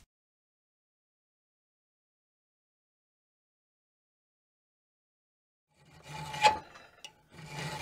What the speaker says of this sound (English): Just taking a round like chainsaw file.